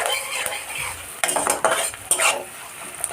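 Onions softening in oil in a pan, stirred with a utensil that scrapes and clinks against the metal in quick bursts over a low sizzle, no speech.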